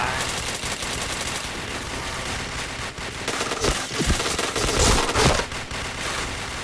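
Rapid gunfire in the shooting video game Point Blank: a dense, loud, continuous burst of automatic shots with heavier bangs near the end.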